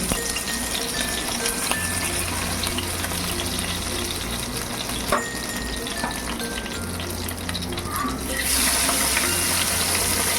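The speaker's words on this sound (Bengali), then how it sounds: "বাকি মাছগুলোকেও আমি একইভাবে ভেজে তারপর তোমাদের সামনে আসছি" Pabda fish fry in oil with a loud, continuous, close sizzle and crackle throughout, growing slightly louder toward the end. No voices are heard.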